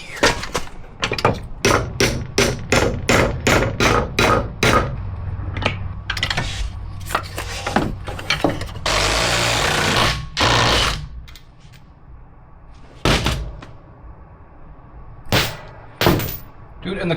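Sharp hammer blows ring out in a rapid series as parts of a Volvo XC70 lift kit are hammered together, then a noisy scraping stretch and a few more scattered strikes, loud and close.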